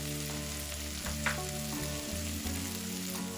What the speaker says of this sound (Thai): ผัดส่วนผสมจนเข้ากันค่ะ